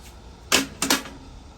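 A screw being driven tight onto the metal ground plate of a GE Hotpoint dryer with a 1/4-inch bit: two short, close bursts of ratcheting scrape about a quarter second apart, with quiet between them.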